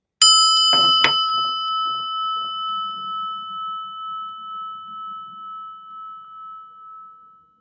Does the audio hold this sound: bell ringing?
yes